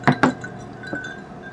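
Drinking glasses clink together in a toast during a Filipino home meal of ginataang papaya and fried galunggong, two bright clinks in quick succession followed by a softer third tap, with quiet room tone behind.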